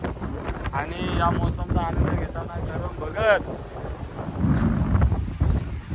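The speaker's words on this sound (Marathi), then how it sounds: "येणारा लाटा, येणारा वारा" Wind gusts and sea waves roll in at a Konkan beach, a rough, continuous roar under people talking close to the microphone.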